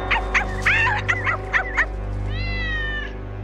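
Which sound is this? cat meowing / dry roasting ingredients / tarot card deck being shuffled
cat meowing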